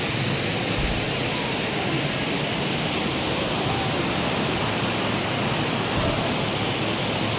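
Clear river water rushes steadily past at Bato Spring in San Pablo, a dense and continuous broadband flow close to the listener with no voices heard over it.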